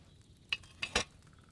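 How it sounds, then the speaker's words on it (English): A cauldron of wine boiling over a flame in the video game Kingdom Come: Deliverance 2, with a few soft bubbling pops and sizzles over a quiet background. "Hear that bubbling? It's boiling."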